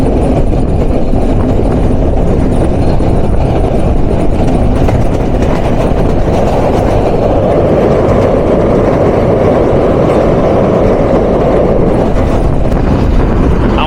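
An intercity express train runs through a station on a circular railway in Bangladesh, its steady low rumble and rolling wheel noise loud and continuous from start to finish.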